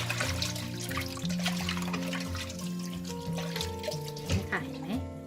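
Food being rinsed in a basin of water until the water runs clear, with steady sloshing and splashing close by and a constant trickle running throughout, while music plays underneath.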